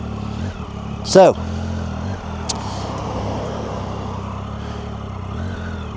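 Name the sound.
motorcycle ride, shifting into gear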